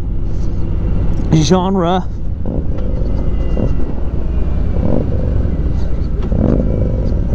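A 2018 Harley-Davidson Street Glide touring motorcycle out on a ride, its engine a loud, steady low rumble with wind throughout, while a voice speaks over it.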